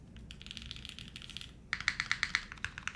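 Fast typing on a mechanical keyboard fitted with Ultra Glide switches: a quick run of light, clacky keystrokes, then a pause and a sharper, more pronounced burst of distinct key presses, close and clear.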